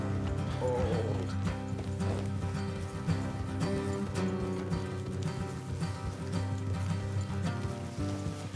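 Horse hooves clip-clop at a steady pace under a bed of game music in Red Dead Redemption 2, with a brief whinny near the start.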